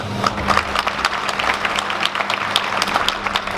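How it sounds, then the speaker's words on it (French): A church congregation applauds Pastor Jean Éclair during a French-language worship service, with steady, dense clapping from many hands filling the room throughout, a low sustained hum underneath. "On nous applaudit Pasteur Jean Éclair."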